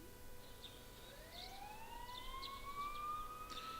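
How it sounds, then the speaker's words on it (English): In the video game Persona 4, faint sirens wail in the distance, their pitch slowly rising and growing slightly louder over a quiet background hiss. "You can hear sirens in the distance."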